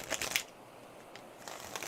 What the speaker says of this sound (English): I'm shuffling these in my lap so I don't have my shoulders up.